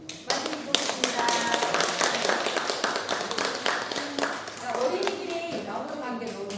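An indoor audience at a book concert claps continuously to welcome children performers, a dense, steady applause of many hands with some voices underneath.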